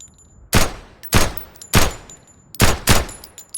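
A pistol fires in the video game Road to Vostok, five loud sharp shots in two uneven groups, each a hard crack with a short tail, with no voices.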